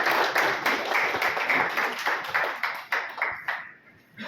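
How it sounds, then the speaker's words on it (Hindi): Loud, rhythmic clapping from an audience welcoming guest Hariram Tripathi at a Bhojpuri poetry discussion at Banaras Hindu University in Varanasi. The claps land in regular beats and then fade out toward the end. "एक बार जोरदार तालियां होनी चाहिए।"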